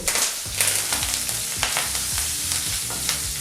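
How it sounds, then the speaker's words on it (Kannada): Garlic, dried red chillies and curry leaves frying in hot oil, a continuous close crackling sizzle with occasional stirring scrapes and no speech. "ಒಂದು ಮೂವತ್ತು ಸೆಕೆಂಡು ಇದನ್ನೆಲ್ಲ ಫ್ರೈ ಮಾಡ್ಕೋಬೇಕು"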